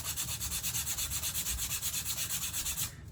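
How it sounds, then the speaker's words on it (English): Sandpaper rubbed rapidly back and forth over edges for a shadow box craft, producing a close, even, rhythmic scratching with regular strokes that stops just before the end. "we can probably use some sandpaper"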